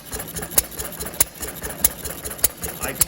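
An odd old stationary engine, around 80 years old, idling just after its first start, a steady slow chugging with sharp periodic knocks or pops roughly every half second under a low mechanical rumble.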